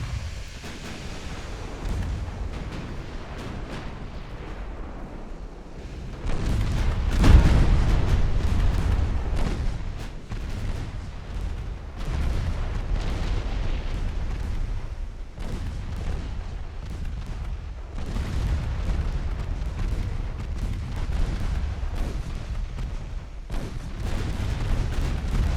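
Naval secondary guns fire in the Ultimate Admiral Dreadnoughts game during a 1904 French campaign battle off the Philippines, with repeated heavy booms over a constant low rumble of sea and distant gunfire.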